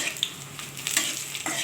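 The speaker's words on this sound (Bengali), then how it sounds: "তো আমি বড়িটা ভাজা করে নিচ্ছি।" Bori, small lentil dumplings, fry in hot oil with a close, even sizzle and a couple of faint stirring scrapes, lasting only a moment.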